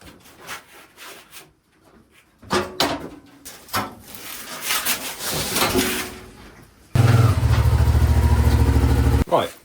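A Hyosung GT650R sports motorcycle fires up near the end after workshop rubbing and scraping noises, its engine running loud and close with a steady buzzing drone for a few seconds.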